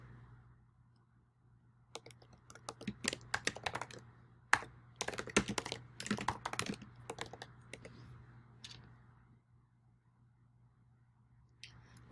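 Someone types on a computer keyboard in quick bursts of clicking keystrokes, close and fairly quiet, with pauses between runs of keys and a faint steady hum underneath.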